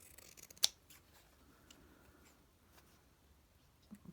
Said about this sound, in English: There's my bigger scissors just to give that a little trim.